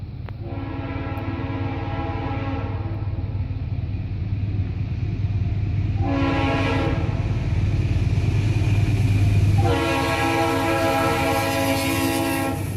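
A Norfolk Southern manifest freight train led by a former Conrail locomotive crosses Main Street in New Jersey, its horn blaring in three long blasts over a constant heavy rumble of the passing cars, loud and near.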